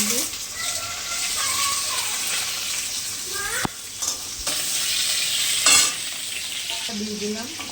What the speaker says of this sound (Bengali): দিয়ে দিলাম আলু